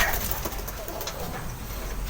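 Pigeons at a loft cooing softly and steadily at close range, low throaty coos under a faint background hiss.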